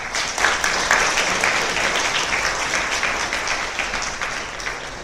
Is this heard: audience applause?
yes